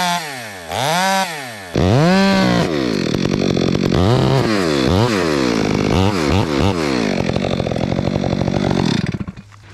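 A chainsaw cuts out the face cut on a tree being felled, its engine loud and close, revving up and down repeatedly through short bursts of cutting before idling off at the end.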